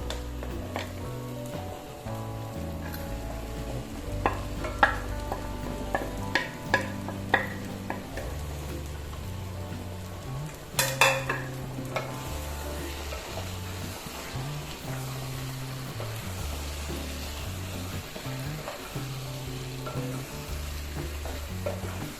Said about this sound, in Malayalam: ഇനി നമുക്കിതിലേക്ക് നമ്മൾ നേരത്തെ വറുത്ത് വെച്ചിരിക്കുന്ന ചിക്കൻ്റെ പീസസ് ചേർത്ത് കൊടുക്കാം